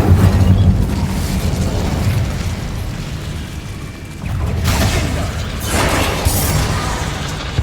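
An Incendio fire spell cast in the video game Hogwarts Legacy: a loud, rumbling fiery blast with two sharper whooshing bursts near the end, over a steady low roar.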